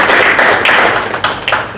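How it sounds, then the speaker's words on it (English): Board of Supervisors members clapping for staff at a study session, a small group's close, loud, uneven applause with distinct individual claps, thinning out toward the end. "Maybe the board, we can give a round of applause for working on it"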